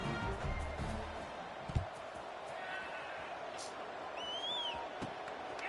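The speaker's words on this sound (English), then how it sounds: "this crowd is feeling themselves after that last drive" Stadium crowd in the NCAA 26 college football game, a steady, distant roar of cheering that rumbles under commentary, with one sharp thump partway through.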